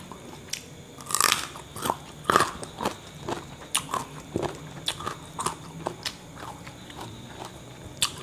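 Raw carrot crunched and chewed up close during a pre-dawn Ramadan meal, with sharp loud bites near the start, then a steady run of crisp chewing crunches, no talking.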